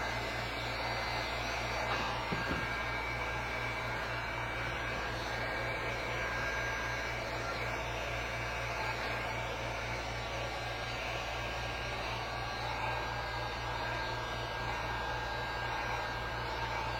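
A heat gun blows hot air to post-heat vinyl wrap film, giving a constant loud, breathy whoosh with a steady low hum underneath, unbroken from start to finish with no talk.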